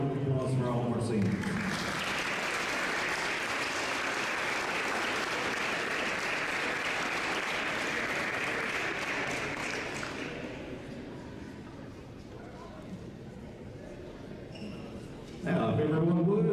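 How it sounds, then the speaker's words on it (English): A school gym crowd at a high school wrestling meet applauds the seniors, a long broad wave of clapping that thins and fades after about ten seconds, with a voice over a loudspeaker at the start and end. "Ladies and gentlemen, one more round of applause for all of our seniors."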